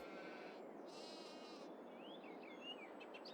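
Sheep bleat on a farm in Farming Simulator 22, their calls wavering and overlapping at moderate distance over a steady ambient background, with no talking.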